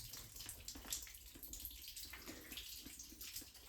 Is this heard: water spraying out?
yes